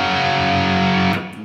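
A distorted electric guitar plays a short fragment of a riff: steady, loud sustained chords that ring for about a second, then cut off with brief muted scrapes, with no talking.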